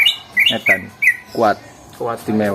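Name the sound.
cucak ijo (green leafbird) singing at a bird contest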